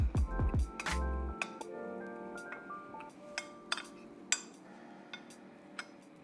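A spoon clinks and scrapes against a bowl while cinnamon and stevia sweetener are mixed, with a few bright rings early on followed by light, irregular taps.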